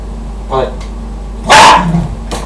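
A dog barks a few sharp times amid talk, one loud bark standing out above the others.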